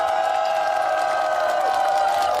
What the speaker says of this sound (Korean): 함성과 박수로